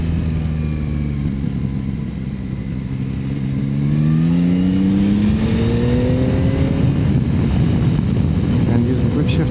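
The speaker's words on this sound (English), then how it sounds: "Down into second, using the downshifter." A 2025 Yamaha Tracer 9 GT engine drones steadily while riding, then the revs climb and shift as the bike is downshifted into second using the downshifter, with a loud, continuous engine note throughout.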